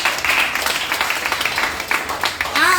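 Church congregation clapping to acclaim God, a steady patter of many hands at close range, moderately loud and continuous, with voices faintly mixed in.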